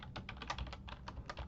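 Fast typing on a computer keyboard, a steady patter of close, crisp keystrokes with brief pauses, no voices.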